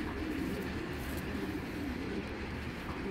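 Racing pigeons coo in a steady low murmur, several birds overlapping continuously at moderate loudness, with a constant background rumble and no voices.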